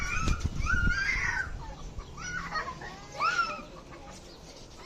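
Chickens cluck and squawk nearby in short, uneven bursts in a village as a rooster is being caught, with a bit of scuffling in the background.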